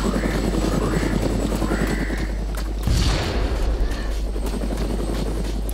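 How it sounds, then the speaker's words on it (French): In the video game DayZ, a helicopter's rotor thrums steadily at moderate loudness, with a dull thump partway through and no talking. "Excellent la chasse à l'hélicoptère."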